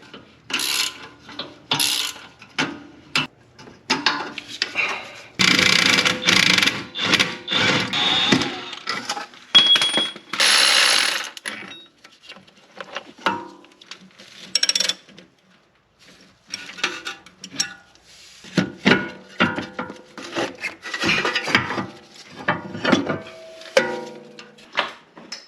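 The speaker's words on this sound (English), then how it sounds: "I'm trying yet a third type of spring compressor, and this was by far my favorite" A spring compressor is tightened on the front suspension of a BMW X5 E70, giving close, irregular bursts of metallic ratcheting clicks and clanks separated by short pauses.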